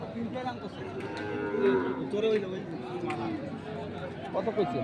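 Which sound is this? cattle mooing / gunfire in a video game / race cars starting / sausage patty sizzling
cattle mooing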